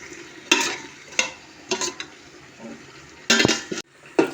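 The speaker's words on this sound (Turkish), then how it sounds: "Tuzuyla da kavuruyorum" A chickpea dish with salt is stir-fried in a pot, a soft background sizzle broken by several sharp spoon-against-pot clatters and stirring scrapes at irregular intervals.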